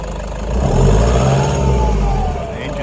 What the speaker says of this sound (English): Let's have a listen to the turbo.